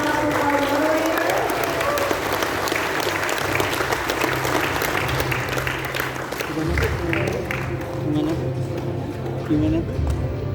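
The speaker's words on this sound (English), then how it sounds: "let's give a round of applause for our moderator" A seated audience at a CS50x Indonesia university event gives the moderator a sustained round of applause, with dense clapping continuing under background voices and music.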